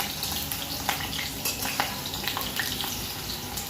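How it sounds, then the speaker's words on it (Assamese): Potato pieces fry in hot oil for a village-style pigeon meat dish, giving a steady, close, dense sizzle with occasional pops and crackles throughout. "গৰম তেলত আলুখিনি আগতে বহাই দিছোঁ"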